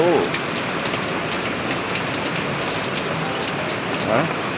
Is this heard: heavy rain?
yes